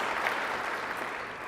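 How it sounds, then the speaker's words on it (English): At a city event, a roomful of people applauds city staff and contractors, a brief, smooth, diffuse wash of clapping heard from a distance, steady and moderately quiet. "a big round of applause for them"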